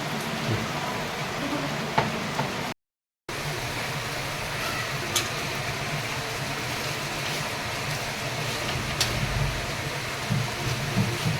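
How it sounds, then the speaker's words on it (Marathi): Steady monsoon rain falls outdoors in June, a constant soft hiss of drops on surfaces with occasional louder splashes, no voices. "पाऊस बघा बाहेर चालू आहे"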